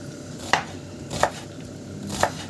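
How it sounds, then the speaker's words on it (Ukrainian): A knife chops an onion on a board in three crisp, evenly spaced thuds, close and clear against a quiet kitchen background. "на другу сковородку я ріжу цибульку"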